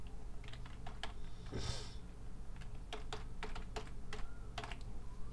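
Quick, light clicking of a computer keyboard while a comment is typed, irregular bursts of keystrokes with short pauses, close and fairly quiet over a low steady hum.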